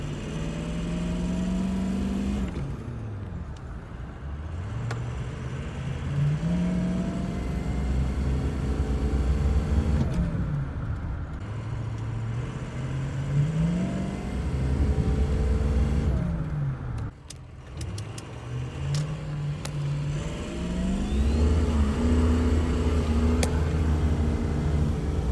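Car engine revved hard in repeated rising-and-falling bursts to around 2,000 RPM, testing a radiator repaired with J-B Weld; loud, steady engine drone throughout with brief dips between revs, no talk.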